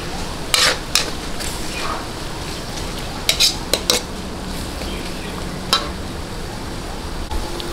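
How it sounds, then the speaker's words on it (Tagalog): Sautéed pancit bihon canton with fish sauce being stirred in a pan, soft sizzling under repeated sharp scrapes and clinks of a utensil against the metal, close and irregular. "Halo-haloin lang po natin para po talagang talab na talab yung patis sa ating paggigisa"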